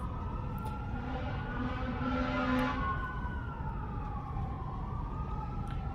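Wailing emergency sirens sweep up and down over a low engine rumble, swelling briefly louder midway as a vehicle seems to pass nearby.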